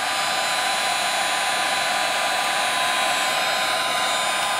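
Wagner heat tool blowing to dry paint on a 3D printed skull, a loud, steady whooshing hiss with a high whine that runs unchanged throughout.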